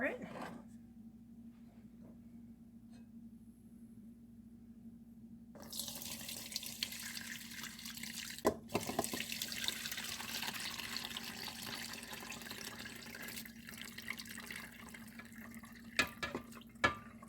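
Simmered homemade lavender shampoo mixture being poured, a steady, continuous liquid stream starting partway through after a quiet stretch, with a few soft knocks near the end.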